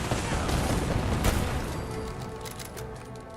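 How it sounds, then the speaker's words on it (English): Automated turrets firing inside a vault in Fallout 4, a dense, continuous burst of gunfire with a sharp crack near the middle that eases slightly toward the end, heard alone without talk. "The turrets have engaged."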